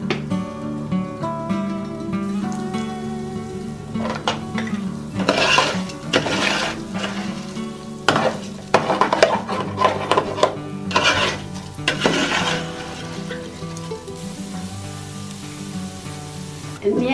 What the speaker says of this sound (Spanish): Y aquí le voy a estar moviendo hasta que se dore.